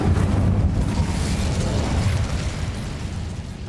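A loud, sustained roaring fire blast from an Incendio spell in Hogwarts Legacy, with a dense rumbling burst that gradually eases over several seconds.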